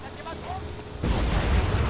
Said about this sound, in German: Und im nächsten Augenblick ist er explodiert